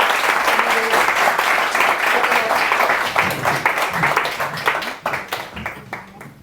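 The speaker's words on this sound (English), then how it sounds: "I'd like you to join me in a round of applause to welcome our panelists to the stage" An audience at a social science panel event claps warmly to welcome panelists, dense applause that holds steady and then thins into scattered individual claps before fading out.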